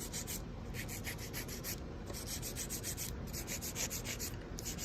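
An 80 grit file rubs back and forth across acrylic nails in quick, even strokes, a close, steady gritty rasp with no talking.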